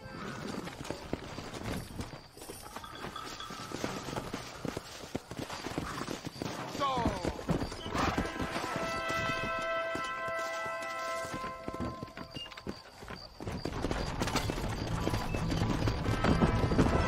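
In the video game Red Dead Redemption, a horse gallops with quick, steady clip-clop hoofbeats on a ride toward Chuparosa in Mexico. Game voices and other effects sound at moderate level around it.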